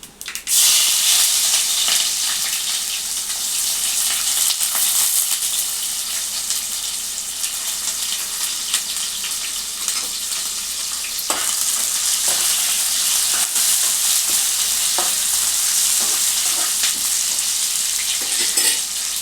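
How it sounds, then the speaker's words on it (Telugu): Chopped onions fry in a pan with a loud, steady, close sizzle that hisses unbroken for nearly twenty seconds, with occasional faint knocks and no talking. "ఇప్పుడు ముందుగా ఉల్లిగడ్డలు వేసుకున్నా."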